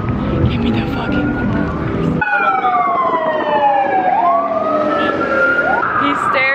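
An ambulance siren wails along a Las Vegas street, its tone sweeping up and down and growing clear after a burst of loud crowd noise, with people talking nearby.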